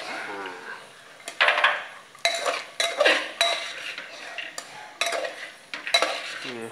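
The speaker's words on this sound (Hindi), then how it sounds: "अब इसको हम धीरे धीरे मिला लेते हैं। ये देखिए अच्छे से मसाले से मिक्स करके" Chickpeas being slowly stirred into masala in a metal pan, a series of distinct spoon scrapes and clanks in uneven strokes over a faint sizzle, close up, with no talking.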